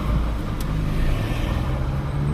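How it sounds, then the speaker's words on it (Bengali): A car on a driving lesson for an Italian category B licence runs with a steady engine hum and road noise as the gears are changed, loud and close, without talk. "এই যে এখন দেখেন আমি গিয়ার আবার চেঞ্জ করে দিতেছি"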